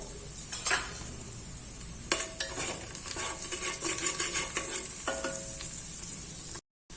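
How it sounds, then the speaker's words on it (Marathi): Rice frying in ghee with turmeric and asafoetida for khichdi, stirred steadily so a spoon scrapes the pan over a continuous close sizzle, with a brief pause near the end. "आता हे चार ते पाच मिनिट या तुपामध्ये मसाल्यासोबत परतून घ्यायचं"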